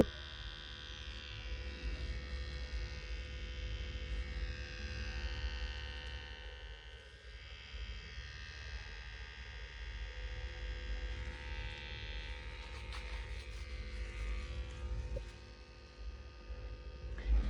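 Tattoo machine buzzing steadily while tattooing, a continuous close electric hum with a faint whine that shifts slightly in pitch throughout, no speech.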